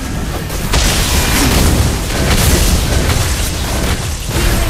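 A loud, booming explosion as a turret is destroyed in the mobile game Mobile Legends, with dense sustained blasts and crackling bursts filling the whole stretch under game music.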